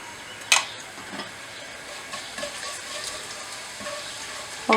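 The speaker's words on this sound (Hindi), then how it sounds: "अब हम ऑयल में 1 चम्मच इसमें ज़ीरा डाल देंगे" Cumin seeds sizzle in hot oil while cooking kabuli chana, a steady soft hiss with a sharp crackling burst early on and another at the end, no voices.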